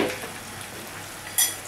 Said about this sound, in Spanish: vamos a dejar que la patata se vaya friendo